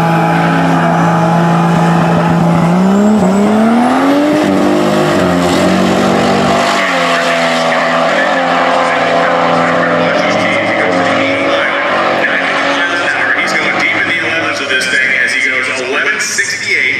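A Toyota Supra-powered SUV accelerates hard, its engine revving loud and close with rising pitch through the gears before settling into a steady roar, while people talk over it.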